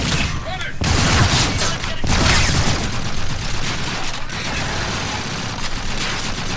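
Rapid gunfire bursts from futuristic weapons in Call of Duty: Infinite Warfare, dense and loud throughout, with booming impacts and a sharp burst near the start, under faint speech.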